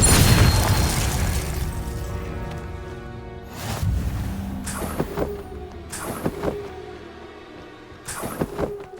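A Confringo fire spell in Hogwarts Legacy erupts in a loud opening blast, followed by several sharp explosive bursts spaced a second or two apart with ringing tails.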